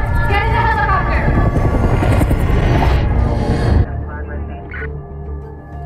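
A helicopter in the film Madame Web (2024) roars close by, its rotor thudding loudly, then the noise drops abruptly to a quieter engine drone.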